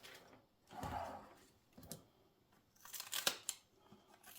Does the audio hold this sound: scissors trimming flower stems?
yes